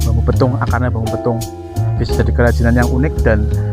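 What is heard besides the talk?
None of the usual background noises is heard.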